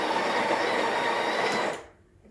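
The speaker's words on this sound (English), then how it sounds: "I recommend only changing this setting when the grinder is actually grinding. So let's do that now. So I'm going to grind a bit." A Breville Barista Express BES870 burr grinder grinding coffee beans, a steady dense whir held loud and close for about a second and a half before cutting off abruptly into near silence.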